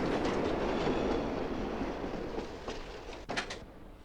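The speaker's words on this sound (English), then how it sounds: "How often does the train go by?" A passing train rumbles steadily with clattering wheels, fading slightly, then a couple of sharp metallic clanks near the end.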